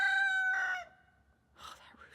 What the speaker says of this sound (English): oh, that rooster